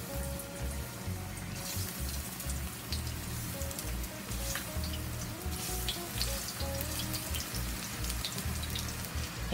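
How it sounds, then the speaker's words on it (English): Eggplant slices fry in small batches in hot oil, a dense, steady sizzle with crackling pops scattered throughout, close and unbroken with no voices. "we are going to fry up some eggplant in small batches, a few"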